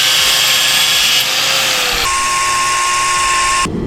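A drill fitted with a homemade lapping tool grinds engine valves with valve grinding compound on a Honda Del Sol head, a loud, steady high whine close by that shifts pitch midway and cuts off at the end.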